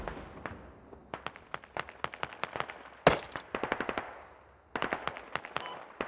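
Airsoft gunfire during a team match, with rapid strings of sharp shots and some single cracks, mostly close and loud with pauses between bursts and no clear talking.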